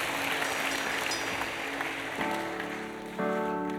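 Church congregation applauding during a worship service, a dense, sustained clapping wash with tonal music or organ tones swelling in beneath it toward the end.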